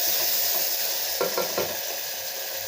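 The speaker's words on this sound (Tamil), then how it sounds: "இப்போ நல்லா வதங்கிட்டுருக்குங்க." Garlic, ginger-garlic paste and whole spices for mutton biryani sauté in hot oil with a dense, continuous sizzle, close and fairly loud, broken by a few brief stirring scrapes.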